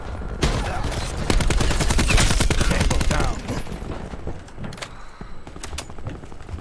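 Gunfire in Black Ops 4 during a Domination match: a loud rapid burst of automatic shots, followed by scattered single cracks and a few shorter bursts over background game noise.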